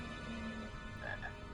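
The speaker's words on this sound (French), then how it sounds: "Ah, la choco-grenouille, regarde" A chocolate frog croaks in the Harry Potter 2 PC video game, a few short low croaks followed by a higher chirping croak, faint over a humming game soundtrack.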